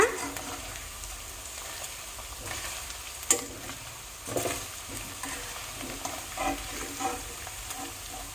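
Paneer pieces fry in a pan, giving a quiet, steady sizzle with a few soft scrapes and clinks scattered throughout, and no voices.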